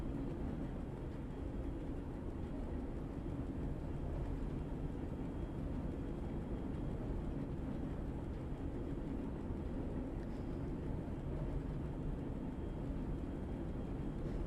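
A train runs in a railway simulator game set on the Liberec to Stará Paka line in Czechia, a steady low rumbling drone of engine and wheels, faint and continuous without talk.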